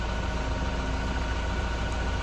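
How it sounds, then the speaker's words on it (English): A car engine idles outside at a lodge in Omaruru, producing a steady low rumble and broadband hum that stays even and continuous, fairly close, with no talking. "You could probably hear the car idling outside."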